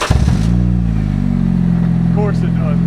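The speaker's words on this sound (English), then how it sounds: "Of course it has an exhaust leak." A used car engine with an exhaust leak cranks and catches, then settles into a loud, close, rough idle with a low throbbing drone; brief speech is heard partway through.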